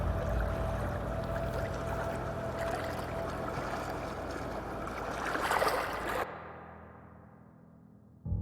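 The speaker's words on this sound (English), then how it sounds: "the sound of crashing waves" Ocean waves wash and crash in a steady broadband roar, swelling slightly near the end before cutting off abruptly into near silence.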